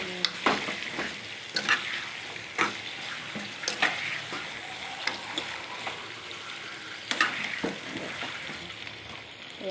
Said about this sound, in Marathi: याला थोड्या वेळ मी शिजू देते तेलामध्ये